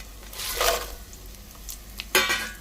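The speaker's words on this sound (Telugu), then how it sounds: "ఇప్పుడు దీంట్లో ఎండుమిర్చి వేసేద్దాం" Dried red chillies dropped into hot frying oil with garlic give a crackling sizzle that swells, fades, then bursts again near the end, close and moderately loud, with no talk.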